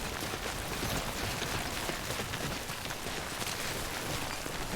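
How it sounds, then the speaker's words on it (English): Rain falls in the video game Death Stranding, a dense, even hiss of drops that stays steady and fairly loud throughout, with no other sounds. "I see the rain"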